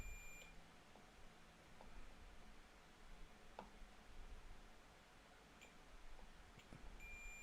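Short electronic beeps from a multimeter in continuity mode, probed across points on a circuit board during a repair, sounding as a few brief, isolated tones over a steady background hiss.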